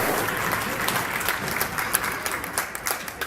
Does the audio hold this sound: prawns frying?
no